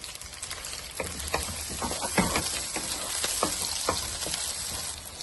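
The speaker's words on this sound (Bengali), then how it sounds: "তেলটা গরম হলে এখন আমি পেঁয়াজ রসুন মরিচ দিয়ে দিচ্ছি" Onion, garlic and chili hit hot oil and sizzle steadily at close range, with crackling spatters and occasional knocks from a stirring utensil, moderately loud and without any voices.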